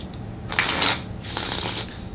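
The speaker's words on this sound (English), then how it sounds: "We can do a riffle shuffle." Noc V2 Black Edition playing cards being riffle shuffled, two loud bursts of fast fluttering card edges riffling together, close and clear with no talk.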